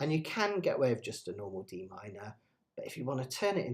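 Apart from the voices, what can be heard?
No distinct noise like a dog, phone or traffic.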